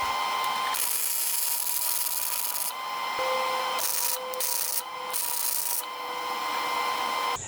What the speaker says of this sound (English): put a few welds on the cracks on the other side just for insurance purposes